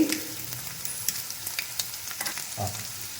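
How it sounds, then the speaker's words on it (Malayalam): Ginger and garlic sizzle and crackle in hot oil for a Kerala-style shrimp fry, a steady close frying hiss broken by light stirring clicks and scrapes. "ഇനി നമുക്ക് ഇഞ്ചി ഇട്ട് കൊടുക്കാം"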